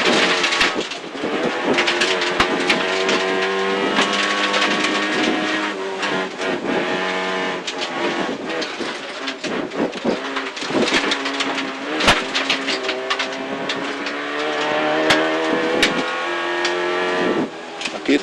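A rally car engine roars close and steady as the car brakes and accelerates, revs rising and falling over a constant harsh wash of noise, with brief talk.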